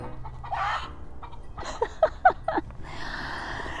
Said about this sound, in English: that's how a hen sounds when they've laid an egg